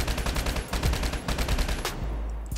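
Rapid automatic fire from the HBR rifle in COD Mobile, a dense stream of sharp shots for about two seconds, then a short pause and one more burst, loud and close with no talking.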